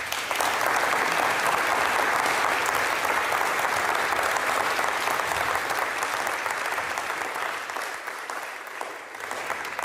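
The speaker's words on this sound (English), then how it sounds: "I think it's worth a big applause from the audience to our panelists." Audience applause for the panelists after a quantum computing plenary at the Falling Walls conference, a full, sustained round of clapping from a large hall that tapers slightly toward the end.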